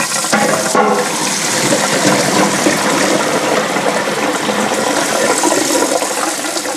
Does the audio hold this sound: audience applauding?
no